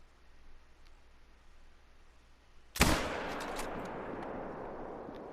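A single sharp .270 rifle shot in a deer-hunting video game cracks out of near silence, followed by a lingering noisy tail and faint scattered ticks.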